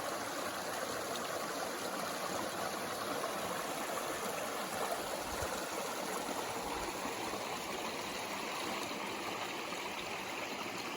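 A small brook flows along a drainage beside the Appalachian Trail, a steady, close rush of water with fine trickling detail that continues unbroken and alone for the whole stretch.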